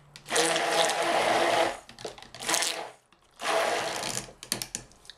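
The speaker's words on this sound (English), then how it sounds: "as soon as I use the blender on it" A stick blender whirs in three bursts separated by short pauses while mixing cold process soap, with some clattering and scraping between runs.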